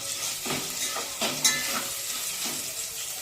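Salt being stirred into bagara rice in a pot, Telangana style, with a steady scraping, sizzling texture and a few soft spoon strokes in the foreground, no talking.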